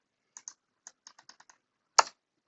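Single keypresses tap on a computer keyboard in a quiet room, about eight light clicks in an uneven run, followed by one louder, sharper key strike like a firm press of the Enter key.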